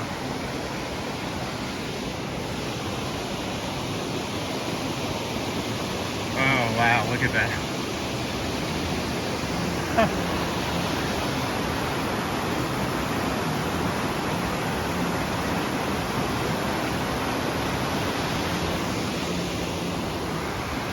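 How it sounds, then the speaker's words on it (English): The Mill River rushes through Clarendon Gorge beneath a small suspension bridge, a steady, full roar of water that fills the whole stretch, with a voice briefly exclaiming partway through. "We're crossing the Mill River."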